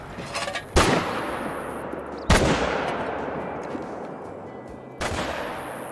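Three loud gunshots from hunting rifles in the game Call of the Wild ring out about a second or more apart, each with a sharp crack and a long rolling echo over a faint outdoor ambience.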